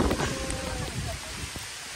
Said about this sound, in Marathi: आला आला पाऊस आला.